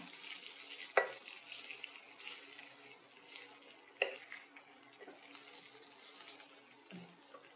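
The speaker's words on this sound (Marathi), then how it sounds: "जरा 2 मिनिटं ह्या परतूया." Diced potato sautéing in a pan for shahi matar pulao, a steady low sizzle with a few sharp spoon clinks against the pan and occasional stirring scrapes, no talk.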